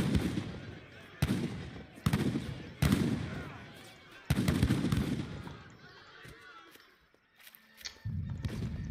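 Heavy cannons and gunfire from an Age of Empires III battle crash out as a series of loud, booming bursts a second or so apart, with crackling shots between them before a brief lull and another rumble.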